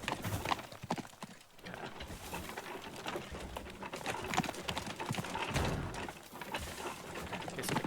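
Hooves clip-clop from a horse pulling a cart in the Teardown video game, with cracking and crumbling of a house being demolished, a busy and fairly steady wash of sound with scattered sharp impacts.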